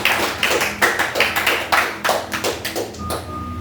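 A congregation at a Sunday church service claps in quick, uneven bursts to acclaim Jesus Christ, the close, sharp hand claps coming in a loose rhythm with a faint tone at the end.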